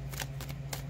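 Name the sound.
tarot cards being shuffled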